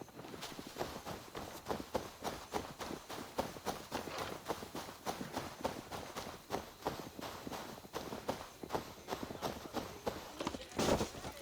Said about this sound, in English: You can ride your horse.